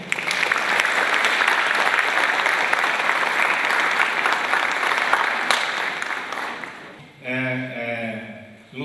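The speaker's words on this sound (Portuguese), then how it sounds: "gostaria que vocês dessem uma salva de palmas, Dr. Gustavo Assed Ferreira" A university audience claps for Dr. Gustavo Assed Ferreira at USP Ribeirão, dense sustained applause filling the hall for about seven seconds before fading, followed by a brief voice speaking.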